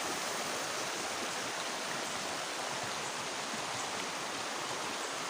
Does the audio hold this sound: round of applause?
no